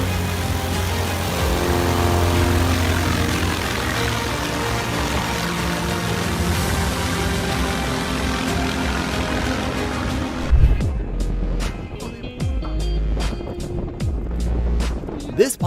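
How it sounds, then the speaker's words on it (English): A small propeller plane's engine drones loudly and steadily during a very short takeoff, then the sound shifts abruptly into rushing wind with sharp clicks and thumps. "This is probably the shortest takeoff clip you'll ever see on the internet."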